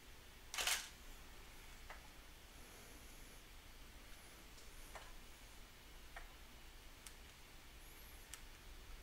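A camera shutter firing while photographing a LEGO Wonder Woman minifigure for a bokeh shot: one sharp, louder click near the start, then several faint, widely spaced ticks over a quiet background, with no talking.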